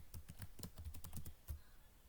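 Keys clatter on a computer keyboard in a quick, irregular run of soft clicks, close and quiet, pausing briefly before a few final taps.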